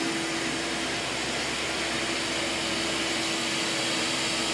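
A Narwal Freo X Ultra robot vacuum runs at max suction on carpet, giving a steady, dense whooshing roar with a faint constant whine and no talking.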